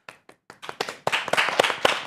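An audience at a televised evening show in Gomel breaks into applause, starting with a few isolated claps and quickly swelling into a brief burst of fuller clapping close by.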